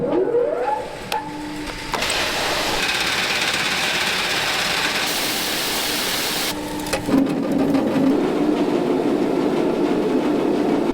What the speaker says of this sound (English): we're going to get this mill running and start and get some stuff through it